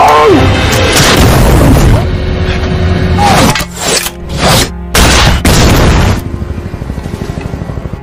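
Loud cinematic gunfire and booming blasts, dense and chaotic, with engine-like rumble and a rapid rattling burst trailing off at the end.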